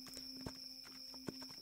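Horse hooves clopping in the Roblox game The Wild West, a quiet steady walking rhythm with two sharper hoof strikes standing out against a constant electronic hum, no talking.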